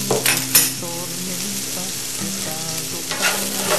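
Stir-fry sizzles steadily in a hot pan while it is stirred, with scraping and clinking of a utensil against the metal throughout, close and fairly loud with no talking.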